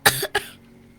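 Two quick coughs close by, the second shorter, followed by quiet.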